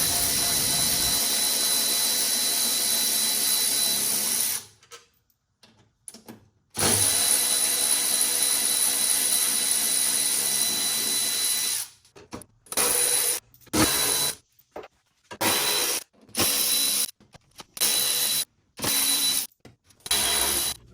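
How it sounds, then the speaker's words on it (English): A Milwaukee M12 Fuel cordless ratchet changing spark plugs on a BMW M4 engine whirs in a long steady run, pauses, runs again, then fires in a series of short bursts near the microphone. "Here's a quick video of this tool in use on my M4 as I was changing spark plugs."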